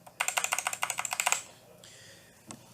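A mechanical keyboard switch with its keycap fitted is pressed repeatedly in a quick, even burst of about a dozen crisp, close clacks, then quiet with one faint click near the end.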